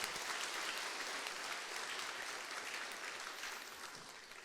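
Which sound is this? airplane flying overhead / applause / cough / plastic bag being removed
applause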